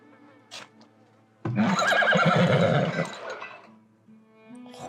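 A horse in the Farthest Frontier village-building game lets out a loud, drawn-out neigh lasting about a second and a half, set against soft ambient game sounds and a faint buzzing of insects.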